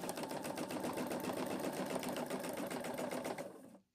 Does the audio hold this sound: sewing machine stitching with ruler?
yes